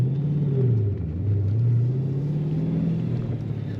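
A yellow 2012 Dodge Challenger SRT8 with a twin-turbo 1000 hp engine accelerates in first gear, a loud, deep rumbling drone whose pitch climbs, dips at a shift and climbs again.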